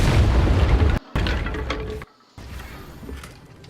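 A Confringo blast spell in Hogwarts Legacy detonates with a heavy, booming explosion, followed by a brief gap and a second rumbling burst that trails off into a softer, lingering crackle.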